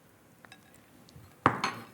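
Utensils clink against a serving bowl while soba noodles are tossed with shrimp pieces; quiet scrapes give way to two brighter clinks near the end, close and with no talk.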